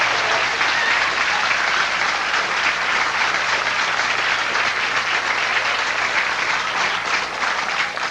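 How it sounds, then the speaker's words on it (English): A crowd at a women's professional bowling final claps steadily and continuously, a dense wash of applause that holds its loudness throughout. "Crowd showing their appreciation"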